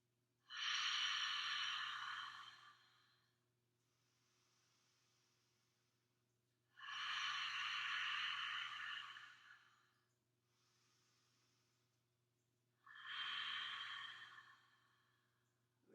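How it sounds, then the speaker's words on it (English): Three long open-mouthed HA exhales in a breathing exercise, each a loud breathy rush followed by a softer, quieter tail, evenly spaced and heard close with no talking. "open the mouth, release the jaw, making the HA sound with your exhales 3 times"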